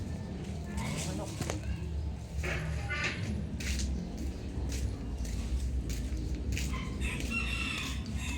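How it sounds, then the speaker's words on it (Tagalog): A live chicken close by, clucking and squawking in short bursts amid rustling handling noise, with people talking over it in Filipino. "Kita nyo, buhay yung manok."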